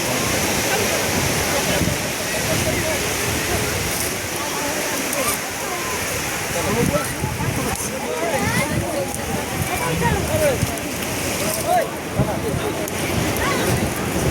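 Surf at Digha beach, where fishermen bring fish ashore from the sea, makes a steady, loud rushing roar with swelling and breaking pulses and some voices underneath.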